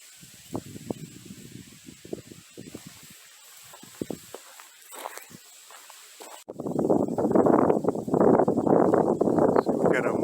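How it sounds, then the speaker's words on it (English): Reeds at a wildlife refuge dike trail rustle and brush together in the wind, first as scattered soft swishes, then a denser, louder steady hiss in the last few seconds. "listen to the reeds brushing together in the wind"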